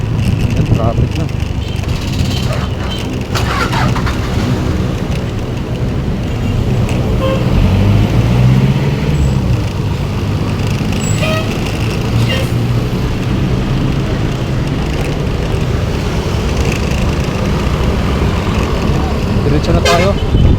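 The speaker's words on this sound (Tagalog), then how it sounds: "Yan, traffic na." Busy Manila street traffic near 6th Avenue, Caloocan, rumbles continuously with a few short horn toots and a passing engine swell, while someone talks over the din.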